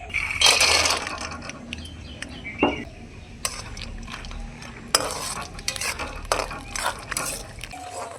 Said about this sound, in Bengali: পোহা বানানোর জন্য প্রথমে সর্ষের তেল দিয়ে এখন কিছু চিনেবাদাম ভেজে নেব।